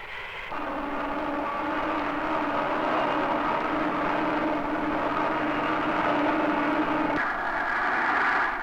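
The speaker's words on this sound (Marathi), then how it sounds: "हा तर आमच्याच विमानांचा आवाज." Military aircraft flying overhead make a loud, steady engine drone that holds for about eight seconds with little change in level. No one speaks.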